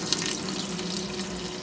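Water from a purifier tap runs steadily into a sink, a continuous close splashing hiss without pauses or voices.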